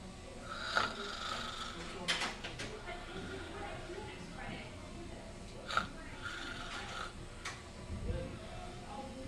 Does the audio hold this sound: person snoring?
yes